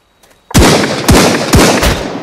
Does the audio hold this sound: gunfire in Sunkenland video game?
yes